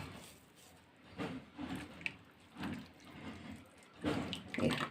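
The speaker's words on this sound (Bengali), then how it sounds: "এইভাবে পুরো আমি একদম ভালো করে চিপে সমস্ত জলটা বের করে দিচ্ছি" Grated radish is wrung out by hand to press out its water, giving soft, quiet squelching and trickling splashes in several short bursts, close and faint.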